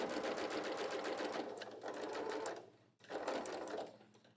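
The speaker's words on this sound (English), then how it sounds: "now I am stitching right along that fold" A sewing machine stitches a pocket along a fold in a steady, close, whirring run that pauses briefly before resuming.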